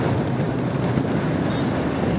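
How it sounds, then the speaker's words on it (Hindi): Strong wind blowing across a busy city street near Empress Market in Saddar, Karachi, a steady broadband rush of gusts buffeting the microphone with low traffic rumble underneath, continuous and loud throughout. "और यहाँ पे चल रही है भाई बड़ी तेज़ हवा।"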